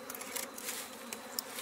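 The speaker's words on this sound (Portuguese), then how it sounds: "Olha só. Olha a abelha." Juá-tree bee buzzing close by outdoors, a steady, fairly soft insect drone with small flickers of louder wingbeat.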